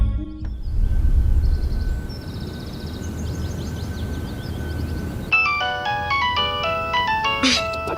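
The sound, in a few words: mobile phone ringtone from an incoming call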